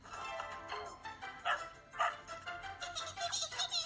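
A dog barks and yips in short, fairly faint bursts, some whiny, spaced irregularly over a few seconds.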